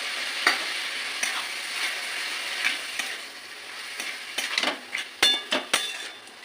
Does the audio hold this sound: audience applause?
no